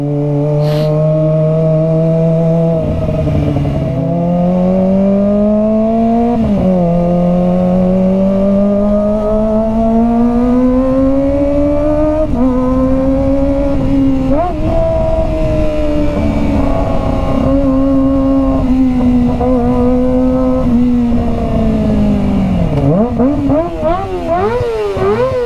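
A Kawasaki ZX25R motorcycle engine revs loudly and continuously, its high-pitched inline-four wail climbing and dipping through repeated throttle blips and gear changes over a long stretch, close and dominant.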